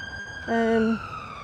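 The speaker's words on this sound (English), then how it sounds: "Perfect timing for an ambulance to be going by, so we'll let that go by" Ambulance siren passing near a palace garden in Edinburgh, a short loud tonal blast standing out briefly over a quieter outdoor background with a steady high tone throughout.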